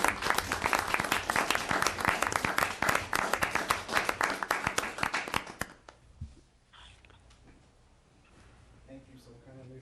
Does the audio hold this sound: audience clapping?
yes